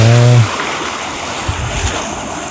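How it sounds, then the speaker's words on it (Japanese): Sea waves wash onto the coast at Portland, England, a steady close surf with soft breaking swells and wind buffeting, following a brief moment of speech at the start. "この波の音。"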